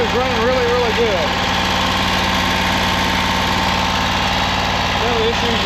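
A John Deere Z910 zero-turn mower engine fitted with new ignition coils idles steadily at close range, a loud, even low rumble with vibration, while a voice talks over it.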